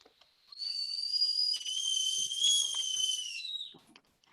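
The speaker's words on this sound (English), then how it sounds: "Yep, that's a ready kettle right there." A stovetop kettle whistles at full boil, a steady shrill tone rising in and holding for about three seconds before tapering off, loud and close with faint background rustle.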